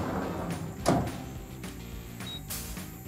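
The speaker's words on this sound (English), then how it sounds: "Let me close the door first." The sliding door of a TRAK TC2 CNC turning center shuts with a brief rolling slide and a soft thump, followed by light clicks and a faint machine hum, fairly close in a quiet shop.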